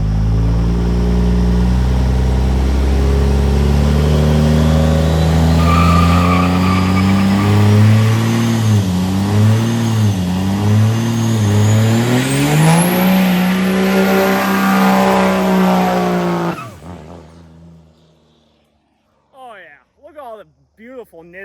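A Cummins-swapped 4th Gen truck on Nitto tires roars through a long, loud burnout, engine revving and wavering in pitch under continuous tire squeal, then cutting off abruptly before scattered voices talk in the quiet after.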